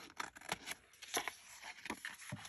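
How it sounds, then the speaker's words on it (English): Scissors cut through paper card, making quiet, close snipping and crisp slicing sounds in a quick irregular run of short strokes, with no talking. "And I'm just using my scissors."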